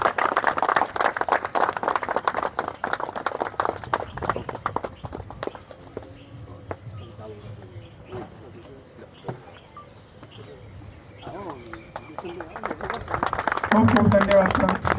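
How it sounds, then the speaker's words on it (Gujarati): A group claps for photographers at a photographers' association cricket tournament held at the SRPF Group 3 ground. Dense rounds of clapping open and close the clip, and a quieter stretch of talking fills the middle. "બધા જ તાળી આપી વધાવી લઈએ"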